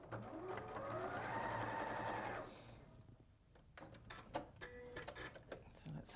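Domestic sewing machine stitching along piping cord with the foot in the cord channel, a steady whirring run for about two seconds that rises in speed then stops, followed by quiet handling sounds and someone speaking.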